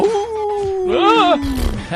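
A big dog howls in a long, loud, wavering cry that sweeps upward and then slides down, standing alone as a single drawn-out howl with no talk over it.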